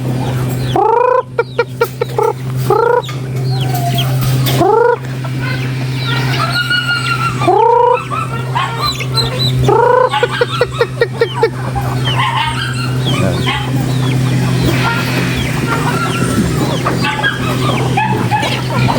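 Chickens clucking and crowing in a backyard flock, repeated sharp calls rising over a steady low hum, with a dog barking nearby and a voice talking in the background.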